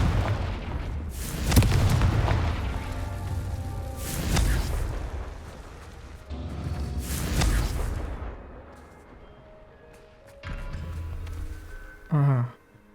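Confringo fire spell explosions in the video game Hogwarts Legacy: several deep booming blasts a few seconds apart, loud and heavy, with a brief voice near the end.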